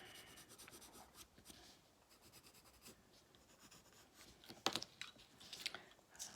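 Colored pencil pressed firmly onto paper during a drawing exercise, a steady scratchy rubbing that comes in uneven strokes, close and fairly quiet, with a few sharper scrapes near the end and no talk.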